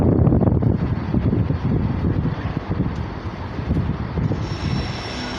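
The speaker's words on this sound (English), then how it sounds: "Incoming now, we have the test train, which is formed of a pair of 37s." A test train hauled by a pair of Class 37 diesel locomotives approaches at Derby, a loud rumbling engine roar with wind buffeting the microphone throughout, and no talking.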